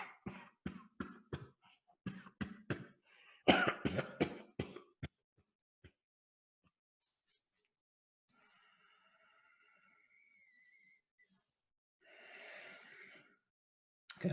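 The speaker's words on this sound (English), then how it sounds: "And then when you're ready, cough." A quick run of sharp coughs and throat-clearing bursts during a breathwork exercise, close by, followed by quieter breathy exhales and a final rough cough after a pause.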